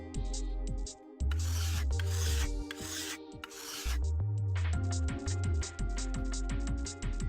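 In the Zero Escape: 999 video game, a knife is drawn over a whetstone in repeated loud rasping strokes, set against a looping musical backdrop.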